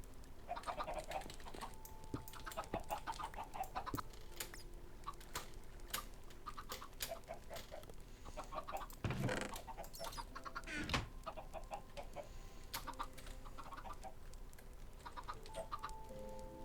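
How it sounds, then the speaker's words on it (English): Minecraft chickens on a raised egg-farm build cluck faintly and repeatedly in soft scattered bursts against quiet in-game ambience, with a few sharper clicks and no voices. "I have made that chicken farm a little bit higher because chickens were escaping"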